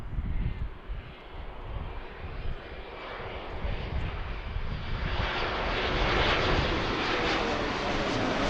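Boeing 787 Dreamliner comes in to land on runway 27 right at Philadelphia airport, a broad engine roar building from distant and moderate to louder and fuller as it nears, with light talk in the background.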